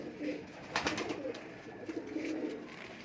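Plain desi pigeons coo softly nearby, low repeated throaty calls rising and falling over faint background noise.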